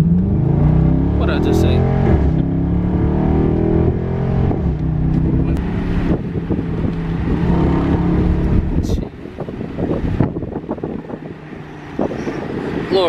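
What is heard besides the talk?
2020 Jeep Cherokee Trailhawk V6 engine revving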